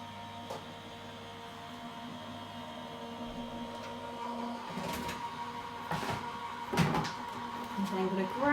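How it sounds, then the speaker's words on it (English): A Gemini electronic die cutting machine rolls a sunflower die through with a steady motorized whir, building slightly with a few knocks and clunks toward the end. "I'm going to then run that through our die cutting machine"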